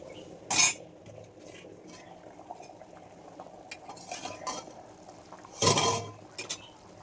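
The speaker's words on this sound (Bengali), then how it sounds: "ওইদিকে হচ্ছে কয়েকটা থালা বাসন আছে সেগুলো আমি মেজে নিয়ে আসি" Metal plates and utensils being scrubbed and washed in a village kitchen: two sharp, loud clattering bursts of metal against metal, with quieter scraping and handling between them.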